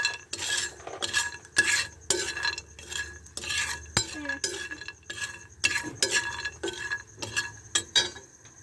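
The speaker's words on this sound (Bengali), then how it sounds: "তেল দিয়ে বাদামগুলো ভেজে নিচ্ছি হালকা আঁচে" Raw peanuts fry in a little oil in a pan over low heat, heard up close as repeated scraping and stirring strokes with small metallic clinks. No one speaks over it.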